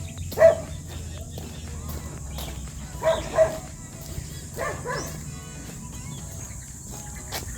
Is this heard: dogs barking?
yes